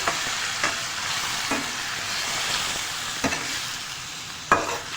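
Chicken, tinted with red food colouring, sizzles steadily in a pan for achari macaroni, with a continuous bright frying hiss and a few soft stirring knocks.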